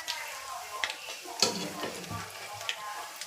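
Bhajiya fritters of thin potato and onion slices in gram flour batter fry in hot oil, a continuous crackling sizzle with small bubbling bursts and an occasional soft utensil tap.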